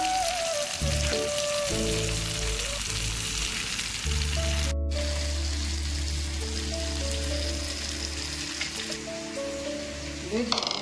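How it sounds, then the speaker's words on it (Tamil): Fish coated in masala frying in oil over a medium flame, a steady dense sizzle throughout with a voice talking over it and a brief clatter near the end. "நல்லா கொஞ்சம் மீடியம் ஃப்ளேம்லேயும் இல்லாமல் ஹை ஃப்ளேம்லேயும் இல்லாமல் மீன் வருங்க"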